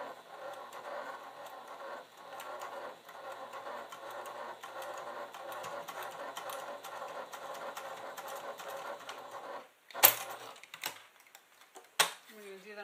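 A sewing machine stitches a quarter-inch seam for a clutch bag in a steady run of quick, light mechanical ticking that stops after about ten seconds, followed by a few sharp handling clicks and rustles.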